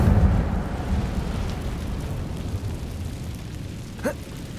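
An Incendio fire spell cast in the Hogwarts Legacy video game: a loud, steady roaring rush of flame with rumbling crackle throughout, ending in a short, bright whoosh near the finish.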